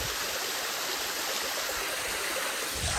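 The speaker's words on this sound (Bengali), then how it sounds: "এদিকে দেখছো কীরকম জল নামছে।" Water pours down the Majhkenda waterfall in a steady, close, full rush of broadband splashing that holds evenly without a break.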